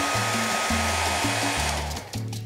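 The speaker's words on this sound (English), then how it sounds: "And last but not least, a hairdryer." A hair dryer blows with a loud, steady whoosh, its motor hum pulsing slightly as it runs, ending with a short change in airflow.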